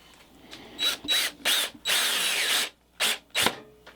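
A power drill drives screws into scrap wood in several short bursts, then one longer run, close up, with brief pauses between screws.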